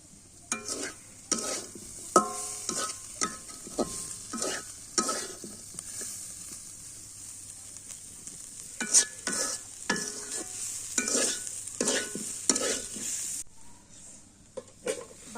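Pumpkin peel bhaji frying in a pan, stirred with a rhythmic series of spatula scrapes against the metal over a steady sizzle, close and fairly loud throughout.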